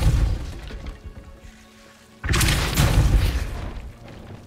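The Depulso force spell is cast in Hogwarts Legacy, sounding as a loud, sudden booming blast that swells and holds for a couple of seconds after a quieter stretch.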